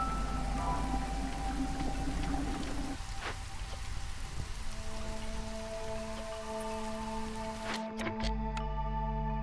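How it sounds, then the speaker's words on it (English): Rain ambience in the video game Against the Storm, a continuous patter of falling drops under soft sustained music tones, with a few sharper clicks and shifts in the music toward the end. "And the rain sounds as well."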